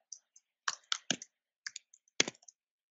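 A computer keyboard clicks in scattered bursts of sharp key presses, including the space key, some single and some in quick clusters, close and fairly quiet with no talking.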